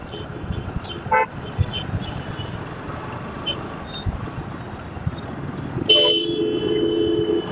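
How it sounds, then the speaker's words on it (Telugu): Heavy city road traffic in Hyderabad rumbles steadily around a motorbike. A short horn toot sounds early, and a louder, longer honk blares near the end, close by, with no talk. "ఆ యూటర్న్ కూడా ఇంత ట్రాఫిక్."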